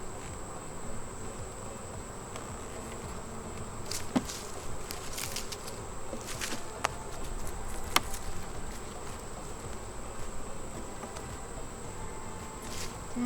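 Honeybees buzz around an opened new beehive, a faint steady drone close by, broken by a few sharp taps and clicks from handling the hive, with no talking.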